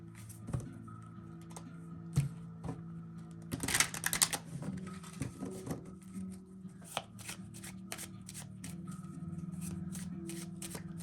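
Tarot cards are shuffled close up and quietly indoors, with soft riffling and tapping that comes in uneven bursts, then a denser flurry, and continues in light shuffling strokes.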